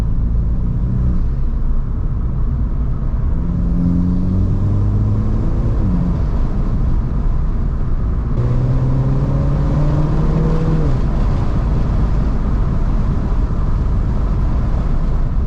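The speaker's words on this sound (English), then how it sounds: "I've never heard a blow off like that on a stock car" A Mini Cooper S F56 engine revs hard up and down through the gears, loud and close, with the drone rising in pitch, cutting off and climbing again as the blow-off valve vents between shifts.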